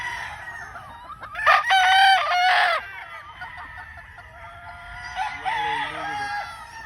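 A Sweater gamecock rooster at a gamefarm in Tagum City crows twice close by, each call loud and drawn out, with a quieter pause between them.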